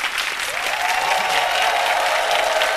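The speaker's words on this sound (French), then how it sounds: "Je vous demande de les applaudir" A studio audience on a midday television show claps loudly for traditional chiefs of Kiyimbo, steady and sustained applause with a brief voice rising through it early on.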